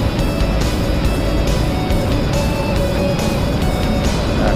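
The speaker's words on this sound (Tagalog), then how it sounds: "At dito lang tayo, mabibilis ang sasakyan." Fast traffic rushing along Ortigas Extension heard from a bicycle on a long road ride, a loud, unbroken roar of passing cars mixed with wind noise.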